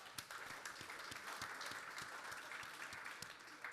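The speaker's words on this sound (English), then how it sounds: "Let's give the farmer panel a big round of applause." An audience at a farm sustainability event in Kansas City applauds a farmer panel, a faint, steady wash of many hands clapping from a distance.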